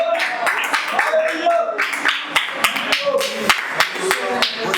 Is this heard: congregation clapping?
yes